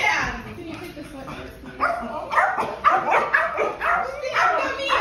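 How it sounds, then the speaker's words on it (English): Dog barking and whimpering during a house move with pets, sharp barks and whiny yelps close by, mixed with people talking. "I have to hold the dog"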